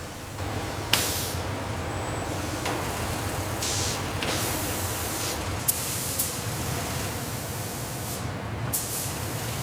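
Robots in a paint booth at a Toyota Fortuner factory spray white paint onto an SUV body. A steady close hiss continues throughout, with occasional sharp bursts and clicks of air and no voices.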